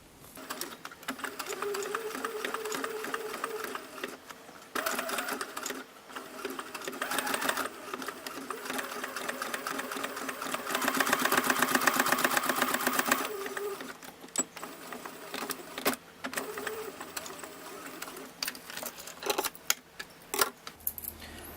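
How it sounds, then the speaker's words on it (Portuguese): A sewing machine stitches fabric pieces of a jointed baby doll together, running close and steady in long bursts with brief pauses, its rapid needle chatter rising in a sustained stretch before slowing into shorter runs. "E vou voltar na máquina, seguindo esta costura aqui, pra fixar uma na outra."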